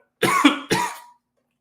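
Two close, sharp coughs in quick succession, the first slightly longer, followed by silence.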